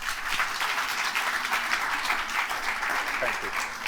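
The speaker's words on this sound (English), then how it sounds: "Please, round of applause for Mark Martin." Audience applause at a technology conference, a dense, steady wash of many hands clapping at full volume for about four seconds, with no clear speech over it.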